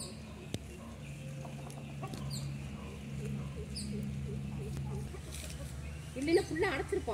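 A rooster and hens cluck quietly around a rural backyard farm, with short scattered clucks over a low steady hum and a few nearby voices.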